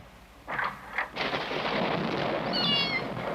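A few short kitten meows sound close by over a background of steady rain and low storm rumble, followed by a higher whining cry.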